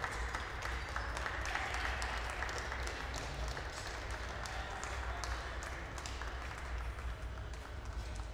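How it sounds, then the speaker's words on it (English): Steady applause from an audience in a glassblowing hot shop for visiting glass artist Tina, a dense even patter of clapping that holds at a moderate level throughout. "can we give, again, our visiting artist, Tina, another round of applause?"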